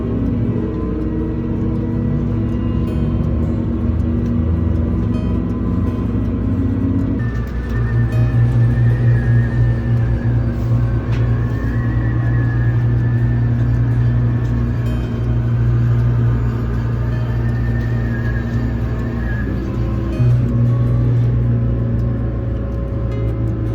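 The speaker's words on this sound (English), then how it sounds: "The shuttle to the terminal is like a large vehicle." An airport terminal shuttle bus, a large vehicle, drives along with a steady, loud engine rumble and drone throughout, shifting pitch once partway through and holding a constant road hum with no talk.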